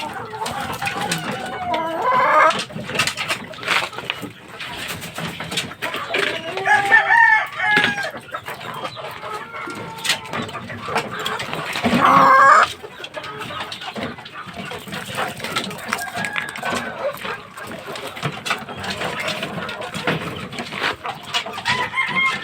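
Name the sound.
gold stag gamecock crowing and clucking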